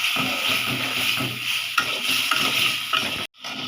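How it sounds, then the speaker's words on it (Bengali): Shrimp sautéing and being stirred in a pan, with a steady loud sizzle and scraping stir strokes throughout, a sharp utensil knock near the middle, then a brief drop to near silence before the frying resumes. "এতে আমি চিংড়ি মাছগুলি দিয়ে নিচ্ছি চিংড়ি মাছটা একটু কষুক"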